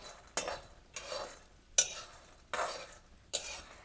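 Peanuts being dry-roasted and stirred in a pan for traditional peanut-jaggery chikki, with five evenly spaced scraping strokes sweeping through them over a soft background hiss.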